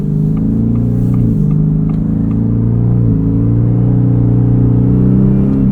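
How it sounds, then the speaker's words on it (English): A 2024 Ford F-150 Raptor R's engine and exhaust drone steadily from inside the cab, a loud low rumble that shifts pitch a couple of times as revs change, with no talking. "Exhaust sounds good in this"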